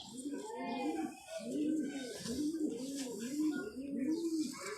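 Rampuri pigeons cooing close by, a run of soft rolling coos repeating in a steady rhythm with faint chirps and background noise.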